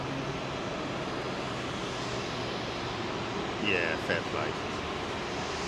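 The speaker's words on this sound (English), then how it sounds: "Now that's a 777-200 with United, which looks to me like she's got GEs." A United Boeing 777-200 with GE engines roars at Heathrow, a broad, steady jet rumble that stays loud throughout, with people speaking briefly partway through.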